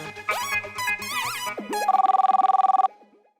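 A telephone rings loudly in a TV sitcom as a rapid, trilling electronic burst follows a brief melodic jingle, then stops abruptly; no one speaks.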